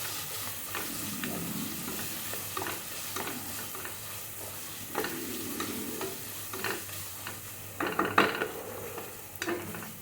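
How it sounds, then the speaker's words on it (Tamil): Ginger garlic paste with green chillies frying in a pan, with a continuous sizzle broken by repeated stirring scrapes and occasional spoon clinks against the pot. "நல்லா வந்து வதக்கி விடுங்க"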